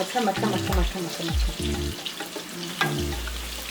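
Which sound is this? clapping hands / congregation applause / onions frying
onions frying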